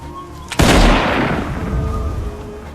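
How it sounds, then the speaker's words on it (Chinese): A single loud gunshot fired by a pursuing military officer in a war film, a sharp close blast with a long booming reverberant decay rolling out over the forest for two seconds. "领队的军官只好端枪开始射击"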